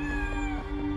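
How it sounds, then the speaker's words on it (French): A kitten meows in the video game Awaken Astral Blade, a drawn-out, tonal cry held over a steady game backdrop. "Un chaton!"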